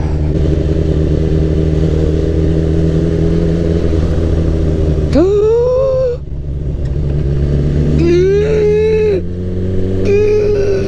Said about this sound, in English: I saw a Husqvarna Nuda